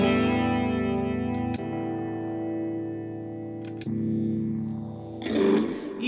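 Electric guitar run through a Line 6 POD Express, sustained distorted chords with chorus-like effects that change tone abruptly at each preset switch, ending in a burst of noisy attack, loud and alone.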